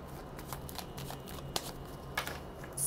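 A deck of tarot cards is shuffled by hand, giving a run of soft riffling flutters with a few sharper snaps, close and quiet with no talk.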